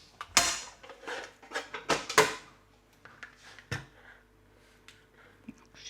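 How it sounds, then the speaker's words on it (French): Spätzle dough of flour and salt stirred in a bowl, giving a run of sharp scraping clinks and knocks in the first seconds, then sparser, fainter taps and creaks in a quiet room. "Et on n'a plus qu'à mélanger."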